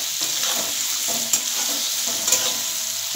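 Potatoes frying in hot oil seasoned with a bay leaf and dried red chilli, a close, steady crackling sizzle broken by a few stirring clicks and spatula scrapes.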